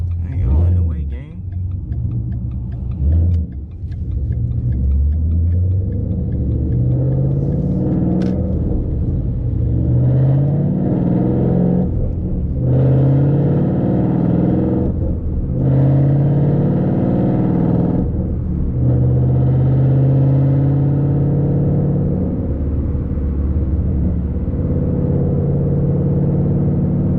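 A loud Ford Mustang GT S197 V8 engine drones steadily while driving, with rising and falling revs through gear changes, and someone talks over it throughout.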